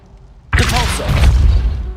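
In Hogwarts Legacy the Depulso spell goes off with a sudden heavy boom after a brief quiet lead-in, then a bright whooshing, rumbling burst that lingers loud and close until the end.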